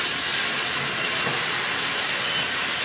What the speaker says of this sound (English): let's go take it in the shower